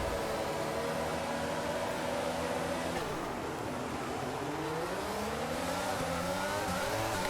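Formula 1 cars pulling away from the start of a race at Singapore in the F1 22 video game, several engines roaring and whining upward through the gears together in a loud, continuous wall of sound.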